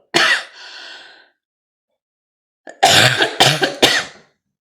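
A person coughs once, then after a pause lets out a burst of several harsh coughs in quick succession, close and loud.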